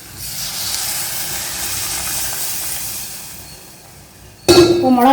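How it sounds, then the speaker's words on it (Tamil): Water is poured into a hot pan of oil with chili powder and turmeric for manathakkali kuzhambu, giving a loud, steady steamy hiss that fades slightly, then bursts into a sharp sizzle near the end. "இப்போ கொஞ்சம் தண்ணி ஊற்றிடலாம்."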